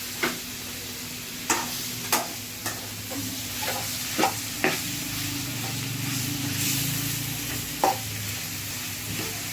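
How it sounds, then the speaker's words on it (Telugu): Chicken being stirred into a fried onion mixture in a pan for a Rayalaseema-style chicken curry, a steady sizzle with scattered sharp scrapes and clacks of the spoon against the pan, close up and with no talk. "ఇప్పుడు ఈ చికెన్ మనం ఇందాక బాగా ఫ్రై చేసుకున్న ఉల్లిపాయ మిశ్రమంతో"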